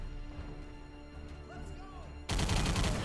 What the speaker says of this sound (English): At least these muzzle flashes can make things easier to see.